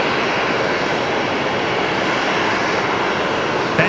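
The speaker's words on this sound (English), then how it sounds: "that's a 737-700 actually. Just arrived here on runway 19 left." Boeing 737-700 jet arriving on runway 19 left at Brisbane Airport, a steady, loud broadband engine roar holding evenly throughout with no voices.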